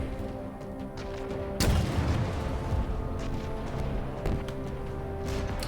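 Rocket launcher shots and explosions ring out in a video game battle, with a heavy boom and a few further blasts over a constant rumbling background of gunfire and game noise.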